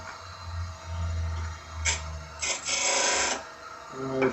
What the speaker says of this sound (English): For this cut I use my bone gouge.